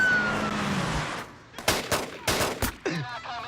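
Gunshots from assault rifles ring out in a movie bank-heist shootout, a fading siren-like tone first, then several sharp, loud cracks in quick irregular bursts with echoing tails.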